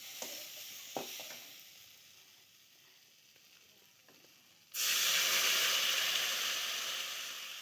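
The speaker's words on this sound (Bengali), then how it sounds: "ভাজা হয়ে গেছে, একটু জল দিয়ে নেব।" Bitter gourd frying in a pan gives a quiet sizzle with a few stirring taps, then water is added and a loud, steady hiss of steam and boiling erupts and continues.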